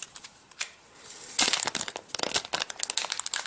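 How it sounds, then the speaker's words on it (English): Plastic wrap crinkles and tears as it is peeled off a new aluminum Apple TV 3rd generation remote, starting with a few soft rustles and then becoming a close, busy crackling. "So let's unwrap that."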